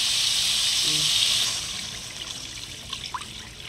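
Water poured into a cooking pot of sautéed ground meat, a brief close gush and trickle that fades into lighter bubbling and drips.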